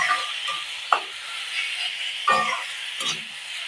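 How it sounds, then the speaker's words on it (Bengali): A spoon stirs an egg and flour mixture with tomato sauce in a hot pan, giving a soft continuous sizzle with a few brief scraping strokes against the pan. "দিয়ে ভালো করে নেড়ে নেব"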